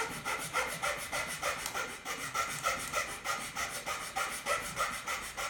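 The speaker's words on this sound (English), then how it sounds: "you want to just begin sanding." Sandpaper rubbing back and forth across a block of wood clamped in a vise, a steady rhythmic scratching of repeated strokes, close and moderately loud with no talking.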